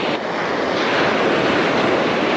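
Ocean waves wash in around tetrapods at a sandy surf beach, making a loud, continuous broadband roar of breaking surf mixed with some wind.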